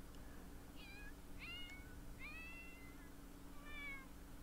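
A cat in The Sims 4 gives four short, faint meows spaced across a few seconds over a low background hum, with no talking.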